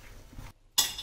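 Cooked black chickpea masala being transferred into a pressure cooker, with a short burst of clattering metal pot and utensil contact after a brief silence, close and fairly loud.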